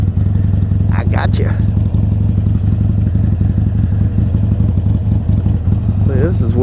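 A motorcycle engine runs steadily and loudly up close throughout the ride, a constant low throb with clattering, while a person briefly speaks over it.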